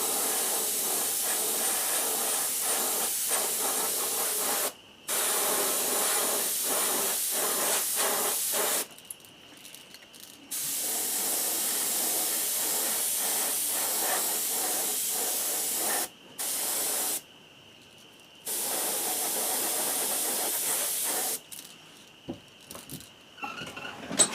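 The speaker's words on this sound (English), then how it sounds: "we're just going to very lightly spray them" A spray-paint sprayer hisses in long, steady bursts, close and loud, with several brief pauses between sprays, lightly coating crawfish crankbait fishing lures in moss green.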